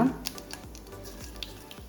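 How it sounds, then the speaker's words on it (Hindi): Mustard seeds and cumin crackling faintly in hot oil, a soft sizzle broken by scattered small pops and a few dull knocks. "जब तेल बढ़िया से गरम हो जाही ओकर बाद हमन एमा डाल देबो सरसों के दाना और एला बढ़िया से फूटे देबो"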